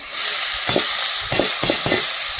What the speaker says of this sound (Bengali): এবার কড়াই রসুন কাঁচা লঙ্কা আর পেঁয়াজ দিয়ে এই লাল শাকটা ভেজে নেব